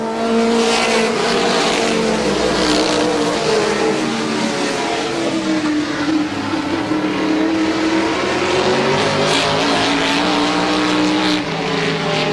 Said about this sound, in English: Tony DiPaolo in the number 60 automobile, holding on to the lead on the back straightaway.